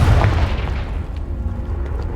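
A Confringo spell blast in Hogwarts Legacy, a loud booming explosion up close that rumbles and decays over a couple of seconds.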